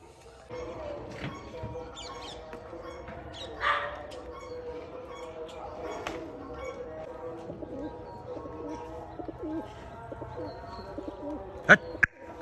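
Soft pigeon cooing and faint bird calls in an outdoor setting, with a dog barking in the distance and occasional sharp knocks.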